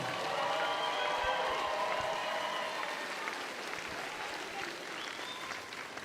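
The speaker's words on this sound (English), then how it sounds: "how about one more round of applause" Applause from a crowd at a women's college basketball game fills the gym, steady and sustained clapping that slowly tapers off, with faint voices underneath.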